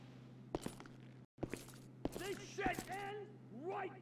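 Sharp gunshots in GTA 5 during a police patrol mod session, several scattered cracks ringing out amid overlapping talk from players.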